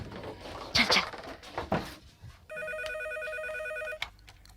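An office telephone rings steadily for about a second and a half after some brief shuffling and movement noises, clear and moderately close.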